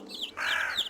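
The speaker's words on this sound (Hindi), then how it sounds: "कौवा" A cartoon crow gives a short, harsh caw, a single close, bright call lasting under a second.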